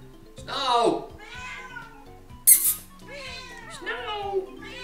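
A cat meows repeatedly in a Banjo-Kazooie game, with drawn-out, sliding meows over quiet background music and a brief sharp effect in the middle.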